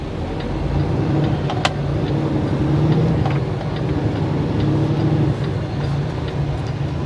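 A car pulls away and drives on at a steady pace, engine and road rumble heard from inside the cabin, continuous and fairly loud with no talk.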